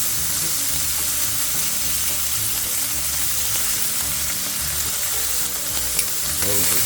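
Thin bacon frying on a grill at a campsite on Kerr Lake: a steady, dense sizzle and crackle that fills all seven seconds, close and even, with no talk.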